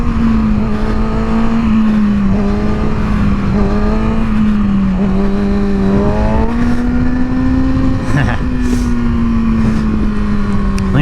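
Kawasaki Ninja motorcycle engine revving hard on a backroad during a wheelie, a loud, steady droning engine note whose pitch swells and dips repeatedly, close by and continuous with no talking.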